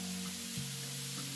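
Garlic sizzling in a hot frying pan, a steady soft hiss of frying with a faint low hum underneath, no talking.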